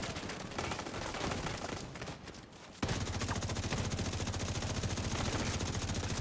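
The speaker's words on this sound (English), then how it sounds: "You can see they're shooting me" Enemies in The Division 2 pour gunfire at the player: scattered shots at first, then a sudden loud, steady automatic burst with rapid evenly spaced rounds close by.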